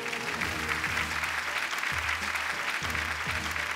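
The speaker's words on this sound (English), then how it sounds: "A big round of applause." Steady, dense applause from an audience at a startup awards ceremony fills the whole stretch, continuous and even, with a low music bed underneath.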